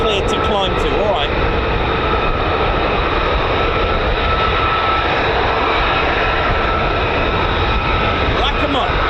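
Steady, loud roar of a fighter jet, an F-15 or F-35 from the 48th Fighter Wing at RAF Lakenheath, climbing after takeoff, holding a constant broadband rumble throughout with faint voices underneath.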